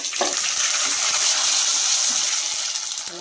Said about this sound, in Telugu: బాగా ఇట్లా కాల్చుకోవాలండి, తిరగదిప్పి కూడా కాల్చుకొని తీసేసుకునేది.